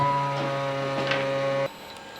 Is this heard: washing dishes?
no